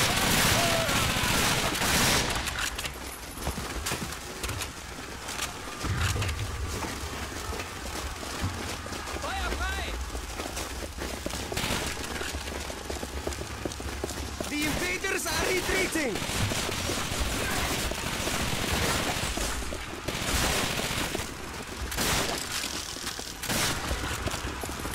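Gunfire in the Call of Duty: Finest Hour video game, with bursts of rifle and machine-gun shots and clattering battle noise rising and falling through a busy combat mix, and voices talking intermittently throughout.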